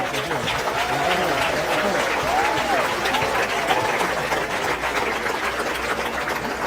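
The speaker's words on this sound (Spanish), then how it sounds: "Un aplauso para él." Applause from a church congregation at an evangelical gathering, a steady dense wash of clapping that holds for several seconds without a break, with a low rumbling hum underneath.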